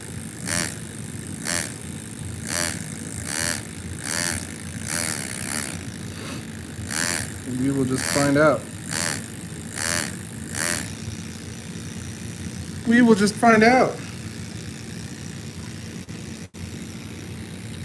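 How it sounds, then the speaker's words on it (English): Air compressor running indoors during copper plate hand engraving, a steady droning hum with regular rhythmic pulses throughout, while a person speaks briefly over it. "I apologize for the noise. That's the compressor."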